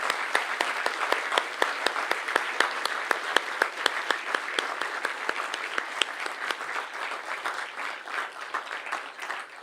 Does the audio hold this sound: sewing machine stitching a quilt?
no